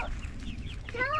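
Chicks cluck and cheep close by in a brief flurry while the dog Romeo rounds them up, with faint background noise under the calls.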